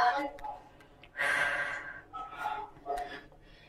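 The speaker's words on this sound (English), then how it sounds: "Inhale and exhale." Breaths go in and out during a mobility yoga session, with a long audible exhale in the middle and softer breathy sounds around it, close and fairly quiet.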